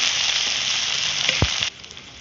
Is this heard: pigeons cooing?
no